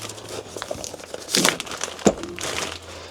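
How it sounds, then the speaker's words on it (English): Protective plastic film is peeled and crumpled off a newly unboxed Carpuride W603 unit, with close, crisp crinkling bursts and short tearing swishes over about three seconds. "Protective plastic film, as you always get on these."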